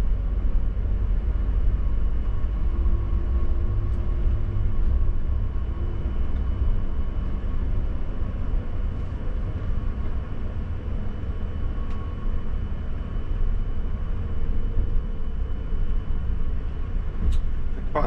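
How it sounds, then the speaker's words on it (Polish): A tram rolls along a street in Barcelona's Diagonal Mar area, heard from inside a Mercedes Tourismo coach as a steady low rumble of traffic and engine noise lasting throughout, without distinct passing peaks. "Tu jest tramwaj, to jest rzadki widok w Barcelonie, tu jeździ tramwaj."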